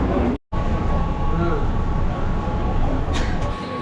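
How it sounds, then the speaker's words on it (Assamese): A Mumbai local train rumbles steadily at a station platform, a loud continuous roar of wheels and carriages filling the space with a constant low drone and a faint tonal whine. "মোৰ ট্ৰেইন আহিছে"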